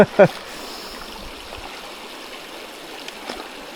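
A shallow river flows in a low, steady wash of water from near its source, with a sharp knock at the start and faint rustles later on, and no clear talking.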